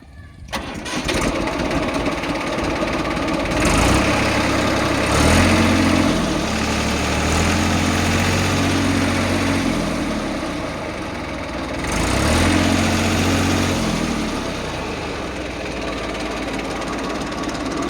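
A 2008 tractor with a new battery self-starts and settles into a loud, steady diesel idle. Its low rumbling throb swells and eases a couple of times.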